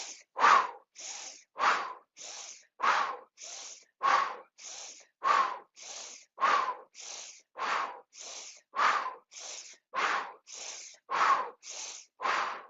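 Twelve or so deep, rhythmic breaths drawn in through the nose and pushed out through the mouth during a guided breathing exercise, each a loud, airy rush with a short gap between them, close up and steady, without any talk.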